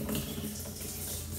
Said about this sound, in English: Now we'll go ahead and fill this up with rainwater and make sure everything is sealed up.